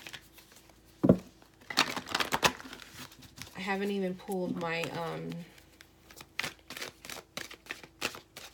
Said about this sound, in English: I'm going to put these back and I'm going to just shuffle